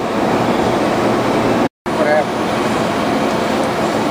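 Screw press machine for tea bags running at about 60 Hertz, a loud steady mechanical drone and hum broken by one brief gap.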